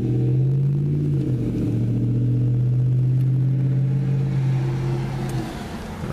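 A truck idles close by on the road with a steady low engine rumble, loud and continuous, easing slightly toward the end.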